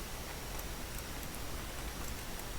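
Rain falls in the zoo-management game Planet Zoo, a soft, steady patter and hiss with faint scattered drop ticks, continuous and fairly quiet, with no talking over it.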